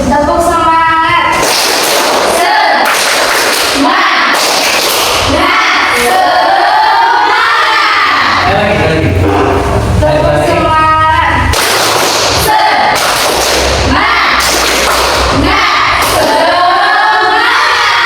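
Children clap and chant the tepuk semangat routine together in a classroom, loud group voices with bursts of rhythmic clapping that pause midway and then start again.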